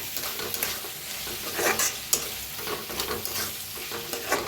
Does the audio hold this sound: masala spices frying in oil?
yes